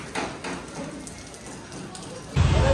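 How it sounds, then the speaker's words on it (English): Rain drips outside a Buddhist temple in snowy Dharamshala, soft taps and patters under a steady wash, ending in a louder rush of nearby falling water or snow. "It's raining."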